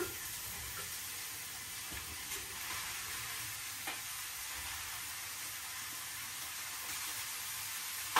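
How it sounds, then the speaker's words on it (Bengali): Vegetables tossed into a pan of fried spice paste for a Bengali cabbage and prawn dish, giving a steady, fairly faint sizzle with soft stirring scrapes throughout and no voices. "এই যে মশলাটা কষানো হয়ে গেছে, এখন এই যে সবজিটা দিয়ে দিলাম"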